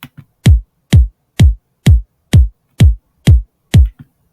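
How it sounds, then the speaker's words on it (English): Drum and bass kick drum processed with effects, eight booming, evenly spaced hits about half a second apart, each a deep, punchy thump with a bright attack, loud and alone. "you get this resounding kick."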